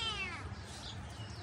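Close, faint meow from a cat in a village courtyard, one short plaintive call that trails off over a low background hum.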